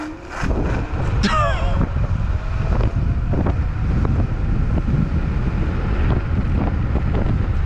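Wind rushing hard over the microphone as a Vsett 10+ electric scooter accelerates from 0 to 50, a steady loud roar with brief whine sweeps near the start.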